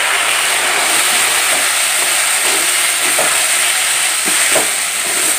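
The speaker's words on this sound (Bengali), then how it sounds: "এখন আমি মিক্সিতে প্রেস করেছি এই মশলাটা ধুয়ে জল দিয়ে দিচ্ছি।" Water hits a hot pan of soybean and potato curry cooked down with ground spices, raising a loud, steady sizzling hiss that bubbles on without a break.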